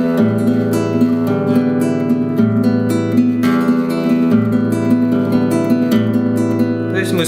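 A right-hand fingerpicking exercise on a guitar, with bass strings and treble strings plucked in a steady repeating pattern. Clear, close notes ring continuously over changing low bass tones.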